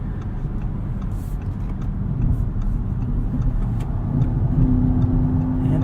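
A 2016 Audi S7 engine roars and builds as the car accelerates hard using launch control, a steady loud rumble with rising intensity and no talking.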